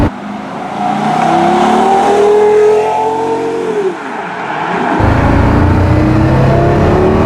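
Porsche Carrera GT engine pulling at quarter throttle, a loud close roar climbing steadily in pitch, dropping at a gear change, then settling into a deeper rumble as the car rolls on.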